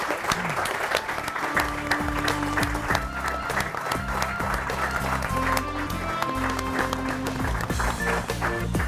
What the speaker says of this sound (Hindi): उनके लिए जोरदार तालियां बजाइए